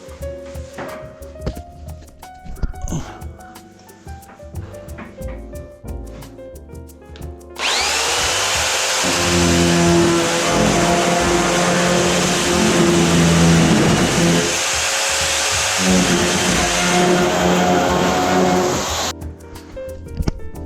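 A chainsaw saws through the roof of an old traditional Japanese house during demolition, a loud steady buzzing roar that starts abruptly after quieter clattering and runs continuously for about eleven seconds before cutting off.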